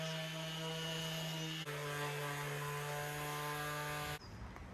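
Power sander running with 120 grit sandpaper on a vintage caravan under restoration, a loud steady whine with a slight pitch change midway before cutting off near the end.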